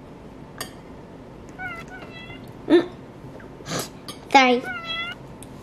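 A cat in the Roblox Livetopia video game gives a few short meows spaced apart, fairly close, alongside brief speech.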